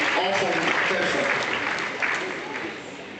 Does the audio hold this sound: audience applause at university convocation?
yes